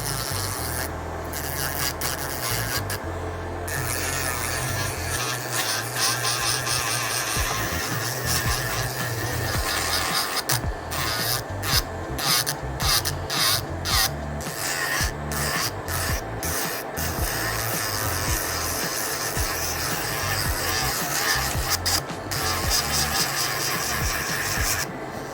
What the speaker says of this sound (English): I am literally going to sit here and file all 5 of these nails